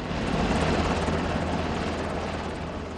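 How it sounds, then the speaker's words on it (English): A Black Hawk helicopter lifts a roughly 6,000-pound fossil off a hillside, its rotor and turbine roar loud, steady and close, filling the whole stretch with a dense, constant wash of noise. "we'd hired a Black Hawk helicopter to come in and pick this thing off the hill and move it onto a nearby trailer."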